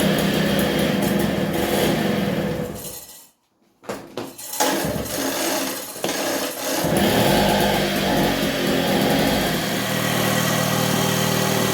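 A 1964 Raleigh Runabout RM8 motorcycle engine with a failed clutch sputters, cuts out briefly, then catches and runs with a loud, steady rumbling idle close by.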